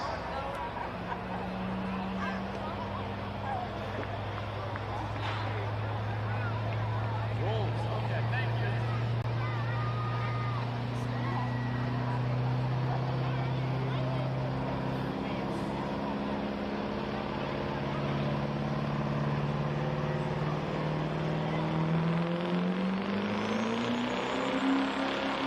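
2007 Chevy Duramax diesel truck pulling a sled at a county fair truck pull, a loud sustained engine roar rising steadily in pitch toward the end, with voices faint in the background.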